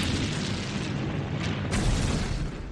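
Continuous heavy booming rumble from artillery shelling in the wargame Nations at War Digital, a loud sustained explosive roar with a couple of sharper bursts near the end.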